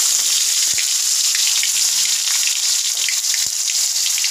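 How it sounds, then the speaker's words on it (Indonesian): Garlic, bird's eye chili, tomato and spring onion sautéing in a pan, a loud, dense, close sizzle that holds steady, with a couple of soft taps from the utensil; no speech. "Yuk kita tumis dulu ini bawangnya sama semuanya aja."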